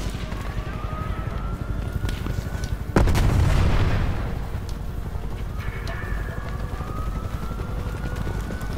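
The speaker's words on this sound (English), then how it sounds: "Can hear a chopper, but where are you?" A helicopter in the video game Call of Duty Cold War: a dense, steady rotor rumble runs throughout, loud and close, broken by a heavy explosion and scattered gunfire.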